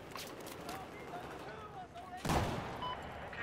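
Gunfire in the Battlefield 4 video game, distant shots crackling under steady background noise, then a sharper louder burst near the end.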